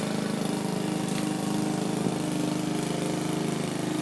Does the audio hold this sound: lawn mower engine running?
yes